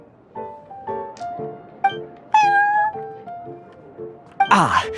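Prince the cat from Genshin Impact meows in a string of short, clear calls, with a longer whining meow in the middle and a louder, rougher cry at the end, heard alone without talk.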